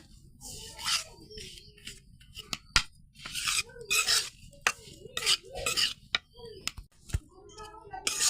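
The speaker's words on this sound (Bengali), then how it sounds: "আস্তে আস্তে ভাজা করবো এই বুটের ডালটা" Split chickpeas (chana dal) being slowly dry-fried in a pan over low heat with bay leaves, heard as irregular scraping and stirring strokes with grainy rattles and a few metallic knocks, close and intermittent.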